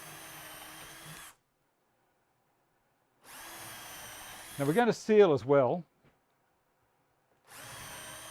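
A power drill with a 4mm brad point bit runs in two bursts separated by silence, with a person speaking briefly between them.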